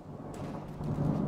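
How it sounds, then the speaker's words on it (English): Deep rolling thunder after a lightning strike in a video game, a low rumble building and swelling over steady rain-like noise, no voices. "So be expecting a huge roar of thunder again."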